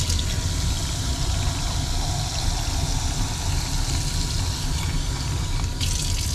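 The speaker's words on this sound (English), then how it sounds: "Now I'm going to fill it up with a little bit of water." Water poured steadily into a container holding coins, a continuous broadband gush with a low rumbling undertone, fairly loud and unbroken throughout.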